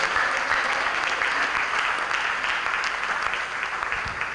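Audience clapping during a training event, a steady, dense round of applause from a roomful of people that holds at even volume and eases slightly toward the end.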